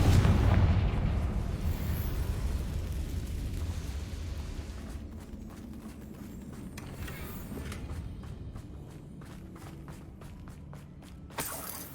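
A Confringo fire spell bursts in a goblin mine in Hogwarts Legacy, opening with a loud, heavy booming blast that rolls into a long, dense rumble with creaking, crackling debris and scattered impacts before a brief final flare.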